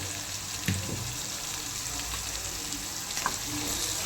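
Vegetables frying in oil with turmeric and coriander powder for Telangana-style pappucharu, a soft steady sizzle with a couple of brief utensil knocks, no speech.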